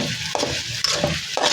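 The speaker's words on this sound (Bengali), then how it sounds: "এই তো একটু হালকা ভাজা দিয়ে এরপর উঠে ফেলবো।" Jackfruit seed mash ingredients being lightly fried in a pan, a close sizzle under repeated scraping stirs that come in quick regular strokes, with no talking.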